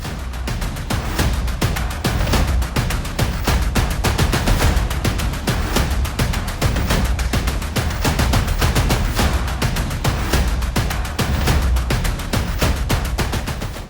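Hasbro Nerf Rival Overwatch Soldier 76 Heavy Pulse toy blaster firing rapid full-auto bursts outdoors, a dense, loud, continuous stream of sharp clattering shots with no talking.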